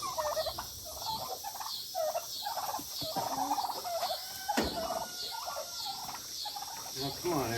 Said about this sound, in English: Trying to paint this coop and the turkeys are inside.